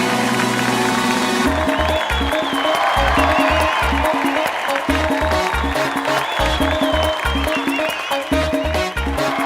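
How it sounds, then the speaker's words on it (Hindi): Studio audience applause and cheering on a Hindi comedy talk show, blended with loud, rhythmic, beat-driven music that enters after a brief opening burst of crowd noise and dominates the rest. "जोरदार तालियां उनके लिए"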